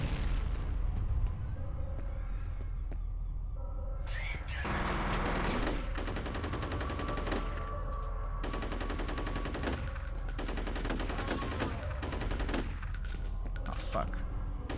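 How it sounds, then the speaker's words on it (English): Chaotic combat in the first-person shooter F.E.A.R.: a grenade blast amid rapid bursts of automatic gunfire and clattering impacts, dense and continuous, with a voice occasionally heard underneath. "Now I threw a grenade."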